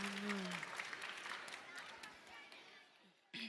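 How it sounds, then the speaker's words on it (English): A crowd at a school event applauds with light, scattered clapping that fades over a few seconds, mixed with a voice near the start and a brief murmur of chatter at the end. "A big round of applause for Professor Mary Claire."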